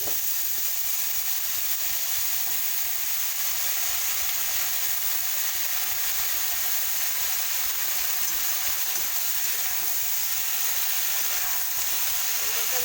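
Gourd stems with lightly fried potato and eggplant sizzle in a pan, a continuous even frying hiss over several seconds with faint stirring, no talking.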